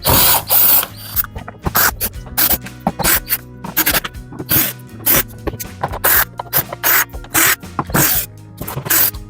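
Screws are backed out of the rear cover of a Samsung dryer with a power driver, giving repeated short whirring bursts separated by brief pauses, loud and close.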